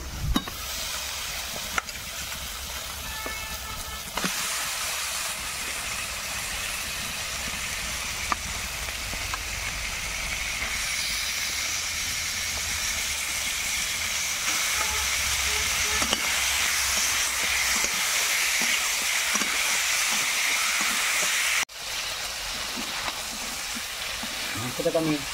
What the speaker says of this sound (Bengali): মাংসটাকে আমি খুব সুন্দরভাবে ভাজা ভাজা করে নিচ্ছি